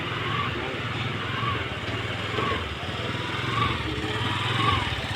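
A TVS Jupiter scooter engine runs at slow speed with a surging fault, its steady mid-pitched drone swelling and dipping about once a second, close by with no talk.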